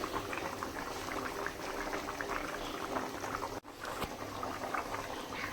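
Potato dum for a vegetarian Bengali dish simmers in a covered pan over a low flame, giving a steady close bubbling and boiling hiss with a single brief knock partway through.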